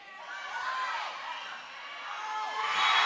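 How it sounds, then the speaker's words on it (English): A crowd at a high school volleyball match roars and cheers after a point, a broad, sustained swell that builds louder toward the end, with a commentator talking over it. "The crowd erupts."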